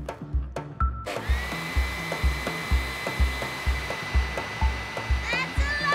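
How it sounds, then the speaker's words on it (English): A loud, steady whoosh of a leaf blower with a high whine on top, under a repeating low thumping beat. "It's a leaf blower, and it can make a lot of wind."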